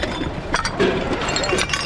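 Small ceramic bowls clink together as they are handled among other dishes in a dumpster, giving close, bright knocks and clatters over a busy background.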